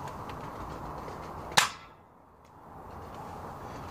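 A short-barrel Doublestrike toy blaster fires a full-length foam dart, a single sharp close snap followed by a fast fade to quiet.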